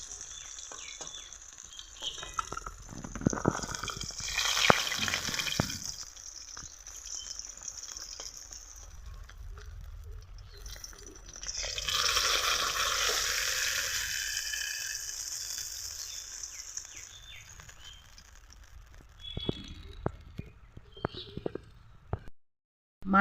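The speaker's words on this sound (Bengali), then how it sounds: "বাকি মাছগুলোকেও একই রকমভাবে ভেজে নিলাম," Rui fish frying in hot oil in a Bengali kitchen for sorshe rui, a steady close sizzle with bursts of louder spitting and crackle, plus occasional clinks of a utensil.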